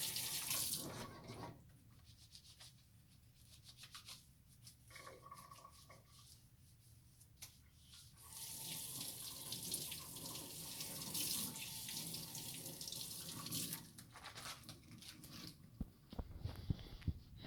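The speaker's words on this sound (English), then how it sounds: "That has to be done under the running water." Tap water running into a sink during a surgical hand scrub, a steady hiss of flowing water that fades in and out as hands move under and away from the stream, with scattered handling clicks near the end.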